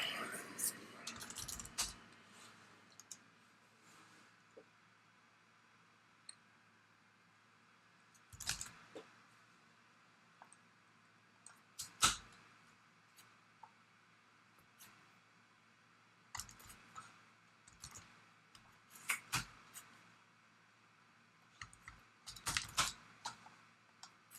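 Someone types on a computer keyboard while working on a file manager program, making faint scattered bursts of sharp key clicks separated by long quiet gaps, with a soft whisper-like hiss in the background.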